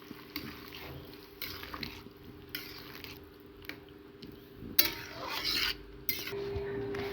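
A spoon scrapes and clinks against a pan as potato and poppy seed curry with ground green chilli is stirred, giving irregular metallic taps and soft wet mushing sounds at close range.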